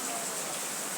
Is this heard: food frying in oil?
no